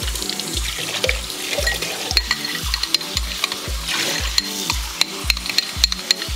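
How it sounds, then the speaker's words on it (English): Running tap water rinses out a bowl, with a steady splashing stream broken by regular sloshing pulses and small clinks, close and fairly quiet, with no voices. "let me rinse this bowl out real quick"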